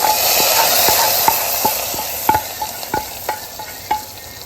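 Onions fry in a pan, with a bright, steady hiss and crackle broken by light clinks and taps as a utensil stirs at irregular intervals, heard up close and alone.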